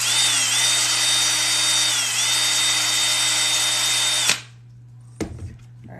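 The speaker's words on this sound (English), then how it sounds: "Now, let's get drilling." Power drill boring holes in a leather tray, a loud steady motor whine with small pitch dips that stops abruptly, followed by a faint clunk.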